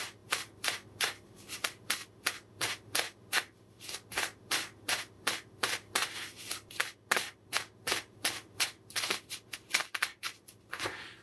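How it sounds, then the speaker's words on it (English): A deck of oracle cards is shuffled over and over, quick crisp riffling bursts repeating in a steady rhythm close by, with no voice over them. "Let me get a few oracle cards here."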